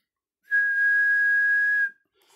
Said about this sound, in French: Donc en général, on siffle en SSB.